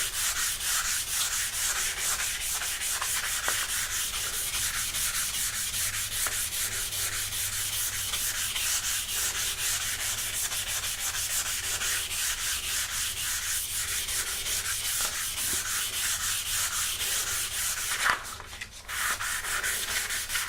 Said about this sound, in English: You want to be sanding on a hard surface so you have a nice flat surface.